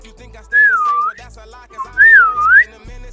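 Two clear whistled phrases from one person, each a rising and falling sliding tune, close and fairly loud with a short pause between them.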